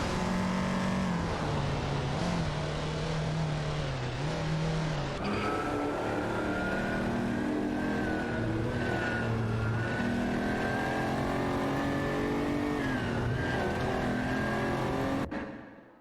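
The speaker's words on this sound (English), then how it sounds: "Plagish 87 and Duff Dad are fiercely contesting 17 in their Ferraris." Ferrari race cars howl through a racing video game, several engines layered at high revs with rising and falling pitch as they battle for position, loud and continuous with no talk over them.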